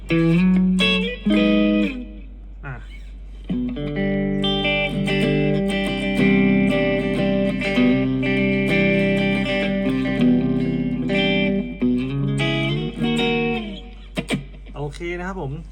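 Electric guitar played through a Cube Baby Pro amp modeler with a set clean tone, sustained chords and picked notes ringing steadily, with a brief spoken word at the end.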